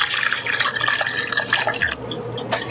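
Coffee poured from a pot through a tissue-lined filter into a measuring cup, a steady close splashing trickle of liquid that thins and drips toward the end.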